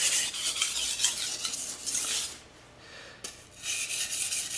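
A kitchen knife rasps over a sharpening stone in scraping strokes with a short pause between passes, close and loud, to knock off the burr.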